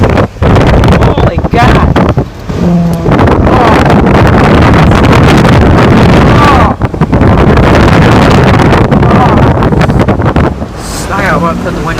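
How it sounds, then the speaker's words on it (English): Strong blizzard wind batters a car while driving through a heavy snowstorm in Brookfield, Wisconsin, a loud continuous roar and buffeting with gusty swells, close and overwhelming, as a man exclaims briefly over it. "Wind is awful."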